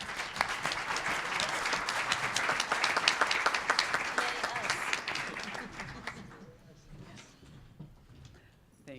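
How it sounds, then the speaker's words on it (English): An audience applauds loudly for about six seconds at a community update gathering, then the clapping thins out and fades to scattered claps. "So I would give yourselves a round of applause."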